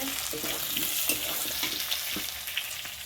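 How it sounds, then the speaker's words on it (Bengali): Potatoes and onions with green chillies fry together in a pan, a steady bright sizzle with a few soft stirring knocks, close and continuous with no talk. "আলু পেঁয়াজ একসঙ্গে লাল লাল করে ভাজা হয়ে গেছে"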